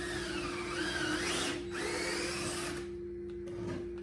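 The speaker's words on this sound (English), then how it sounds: "while he's drilling all of those holes in" A power drill whines steadily for a few seconds, changing pitch under load, then cuts out, leaving a softer hum.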